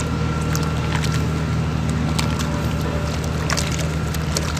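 Loud, constant mechanical drone of a construction crane nearby, a steady low hum with broadband clatter and occasional sharp clanks throughout.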